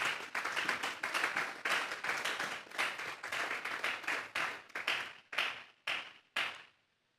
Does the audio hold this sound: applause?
yes